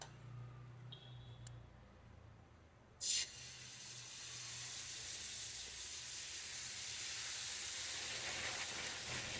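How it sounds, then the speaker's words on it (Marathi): Amboli rice batter hits an oiled hot pan after a few faint clicks, then builds into a steady hissing sizzle that grows gradually louder and keeps going, close up and alone. "आता हे तयार करून घेतलेलं मिश्रण मी अगोदर ह्या साईडने टाकू द्यायचं गोल, नंतर मध्ये भागी टाकून द्यायचं।"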